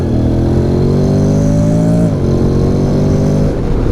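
A 2023 Honda X-ADV 750 accelerates hard in first gear out of a corner, its engine note climbing steadily and loud, easing off briefly before pulling again.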